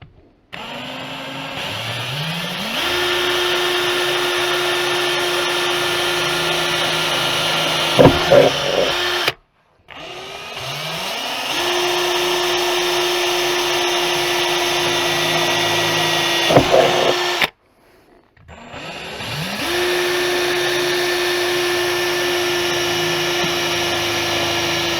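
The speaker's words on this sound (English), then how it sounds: "Here's the drill we got, little Ryobi one" A small Ryobi power drill fitted with a 3mm bit bores into a Rover Mini City, running in three long whirring bursts with brief pauses between, close and loud.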